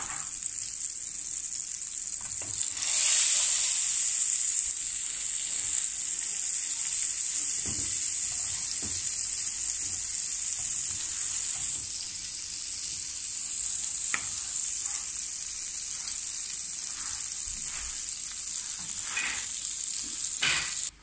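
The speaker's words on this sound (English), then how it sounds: "I'm using butter for frying" Steady, bright sizzling of carrots frying in butter in a pan, continuous and close, with a few soft clicks and stirring scrapes.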